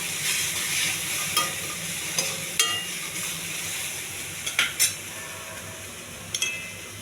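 Okra fries and steams in a pan with cumin, onion and ginger-garlic paste, a steady low sizzle broken by several sharp spatula stirs and scrapes.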